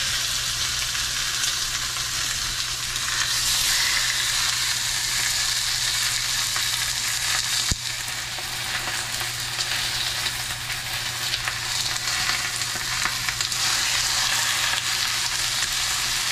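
A hot saucepan on the stove over medium-high heat holds spaghetti-dish ingredients with acorn squash and asparagus, sizzling loudly and continuously close up, with a steady hiss and light stirring scrapes and no voices.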